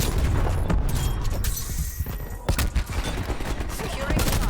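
AUG rifle firing in burst mode in the shooter game Call of Duty Cold War: dense, loud cracks and booms stacked in rapid bursts throughout, with little pause between volleys.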